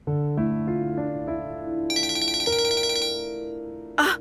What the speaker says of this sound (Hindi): एलिफ का फोन आ गया।